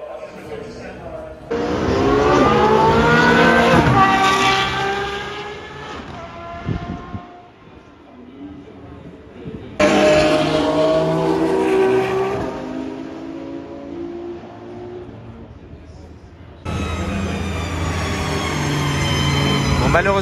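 McLaren P1 GTR race cars pass along a track at a secret car meet, loud engine howls rising and falling in three separate passes with gear changes, each sweep fading before the next car arrives.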